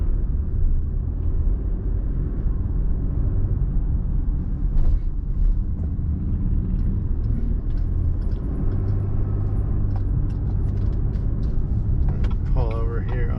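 A diesel car pulls over on a residential street, its engine rumbling steadily and close throughout, with a brief clunk near the middle and a faint squeak near the end.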